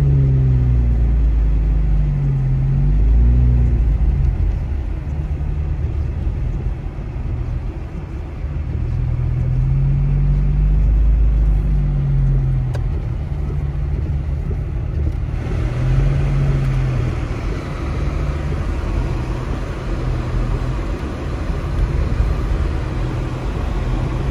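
A car driving through deep snow produces a steady, loud engine rumble and low road noise that swell and ease over the whole stretch, heard from inside the vehicle with no talking.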